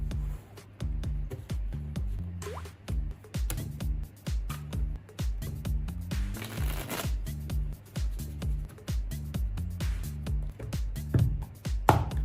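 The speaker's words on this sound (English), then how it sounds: "Now shuffle at will." Ordinary playing cards shuffled repeatedly at a baccarat table, a steady run of crisp riffling bursts and soft taps that repeat every second or so, close and fairly loud with no talking.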